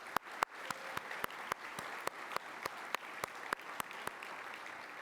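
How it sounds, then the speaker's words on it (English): A conference audience gives a round of applause at a keynote, steady clapping with sharp individual claps standing out, heard from a distance and fairly quiet. "I would like to give a round of applause to Keisha and her team that have actually done this"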